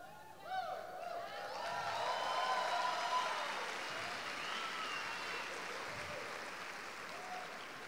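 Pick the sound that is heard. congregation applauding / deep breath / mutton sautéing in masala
congregation applauding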